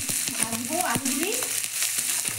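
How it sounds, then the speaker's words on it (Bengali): Potatoes frying in a pan with ginger-garlic paste as part of a prawn and taro-flower curry, a steady close sizzle broken by several sharp clinks and scrapes of a spatula stirring. "ভাজবো আলুগুলি"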